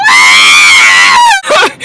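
Voice imitating a crowd screaming in panic at a Fridays restaurant, one long loud sustained shriek followed by a shorter wavering scream, very close.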